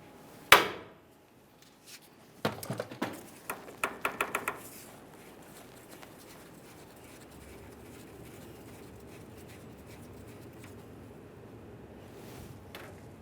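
Hammer knocks on the outer tie rod end of a 1994-2001 Dodge Ram 1500, starting with one sharp metallic strike, then a quick run of lighter taps, followed by quiet garage background.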